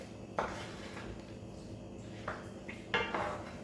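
Smoky mac and cheese is stirred in a pot, with a few scattered metallic scrapes and clinks of a utensil against the pot over a quiet background, no talk.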